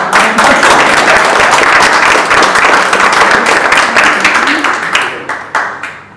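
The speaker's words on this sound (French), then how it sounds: "On peut les applaudir." Dense audience applause after a local election campaign meeting, loud and steady with many hands clapping, then thinning into scattered claps that fade out near the end.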